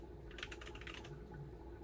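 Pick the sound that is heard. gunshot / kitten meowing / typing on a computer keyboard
typing on a computer keyboard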